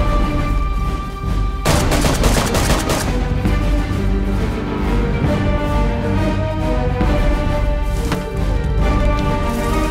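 Loud video game gunfire with a sharp sniper-style crack followed by dense, rapid shots and crackling bursts over a continuous battle din.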